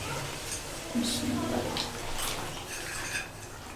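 Beaten yogurt goes into frying biryani masala in a pan, bringing a burst of hissing and spattering with a few metal clinks from a utensil, while a voice talks over it.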